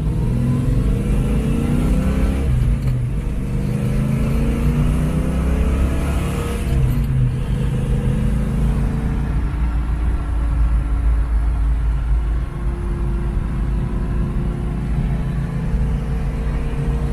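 A 1968 Ford Mustang GT Fastback V8 rumbles and revs up and down, deep and steady close by, with a couple of rising pulls before settling to a low throaty idle.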